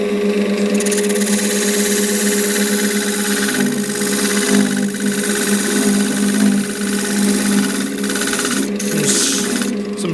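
A S.I.P 01490 wood lathe spins up to cut end grain, giving a loud, steady motor hum with a buzzing whine and rattling vibration that holds for the whole stretch, with no speech.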